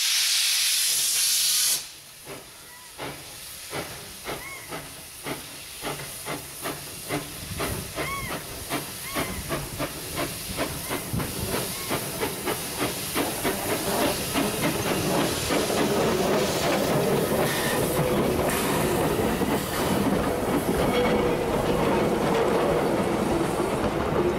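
Steam locomotive F-13 starts up at Ferrymead, New Zealand, with rhythmic chuffs that quicken and grow louder as the train rolls, joined by hissing steam and rattling wheels.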